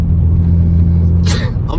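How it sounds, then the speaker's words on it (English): A single sharp sneeze bursts out late over the steady low rumble of a 2007 BMW 335i convertible cabin, brief and close to the microphone. "it's like the 3rd time I've sneezed"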